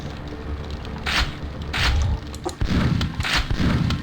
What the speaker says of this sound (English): Long range shotgun, you can be like that.